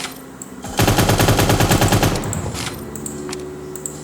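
Rapid automatic gunfire bursts out in the Cyber Hunter video game, a loud rattling string of shots lasting over a second before fading into echoing tails and a few lighter game sounds.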